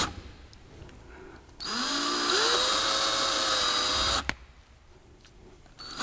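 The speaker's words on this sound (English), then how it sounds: "now it's time to drill the holes." A power drill bores holes in a Toyota RAV bumper in one loud, continuous whine of about three seconds that rises in pitch as it speeds up, then cuts off sharply, with quiet before and after.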